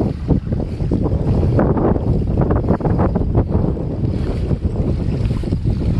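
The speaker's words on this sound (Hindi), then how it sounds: "हवा चलने की वजह से समझ में नहीं आ रहा थोड़ा" Gusty wind batters the microphone outdoors at a village fishing spot, loud rumbling buffets rising and falling over a few seconds with no talking.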